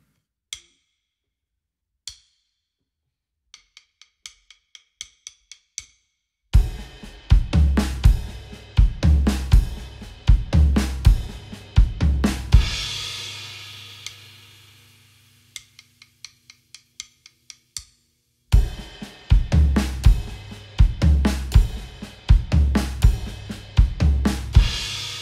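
A drum fill of snare and bass drum strikes repeats four times in a row, loud and close with rapid hits. Sparse ticking clicks come first, and a brief quieter break falls before the fill returns.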